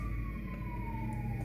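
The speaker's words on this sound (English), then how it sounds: "Excuse the sirens." A siren wails steadily in the distance over low traffic rumble, its pitch slowly gliding downward, with no talking.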